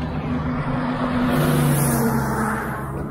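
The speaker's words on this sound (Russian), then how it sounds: "пожарка едет." Fire engine driving past on a road: a steady engine rumble with a low droning tone swelling slightly and fading, heard at moderate distance.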